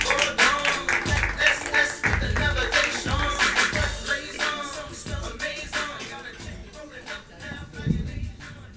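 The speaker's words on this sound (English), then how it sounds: "Make some noise now for Melina Best." An audience applauds a comedian at a crowd-work stand-up show, a dense, steady wash of clapping mixed with a thumping beat of background music.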